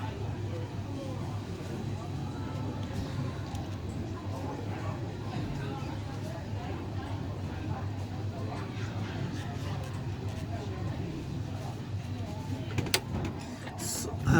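A heat gun warms the flex cable area inside an iPhone 6 during a screen replacement, a quiet, steady fan-and-air whoosh that runs without a break, ending with a couple of small clicks.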